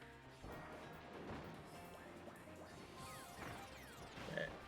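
In the Kirby game Battle of Blizzard Bridge, an explosion erupts as a burst of crashing, smashing impacts amid dense game noise, with a sharp flurry of effects at the end.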